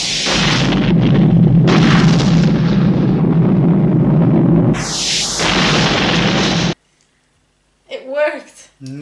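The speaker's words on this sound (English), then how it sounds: "Nuclear explosions, at least in the sea." Nuclear explosions at sea in a 1977 spy movie: a loud, sustained roaring blast rumble for several seconds with a second surging burst, cutting off abruptly into silence before a voice speaks.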